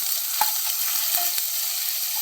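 Potato pieces frying in a pan with onion and ginger-garlic paste, a loud, even hiss of sizzling oil with a few soft knocks from stirring.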